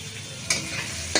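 Onion and green chilli sizzle in hot oil in a pan with bay leaf, a steady close hiss broken by two sharp bursts as pieces hit the oil.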